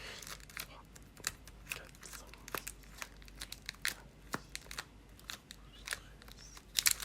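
A Magic: The Gathering booster pack is opened close by, its foil wrapper crinkling and tearing in sharp, scattered snaps and rustles over a quiet background.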